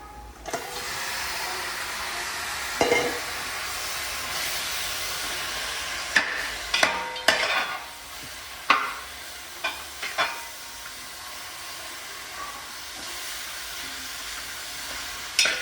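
Chicken pieces frying in a pan with spices for jeeraga kozhi, a steady close sizzle and hiss interrupted by sharp clinks and scrapes of a spoon stirring.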